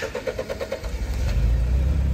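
An off-road car's engine revs up steadily while stuck on a blocked forest trail, the rough mid-pitched roar rising and building loud and close after a brief pulsing idle.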